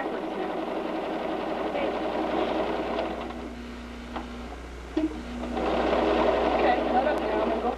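A sewing machine stitching straight seams on fabric, running steadily with a whirring hum, pausing briefly, then starting again, close and clear with occasional clicks.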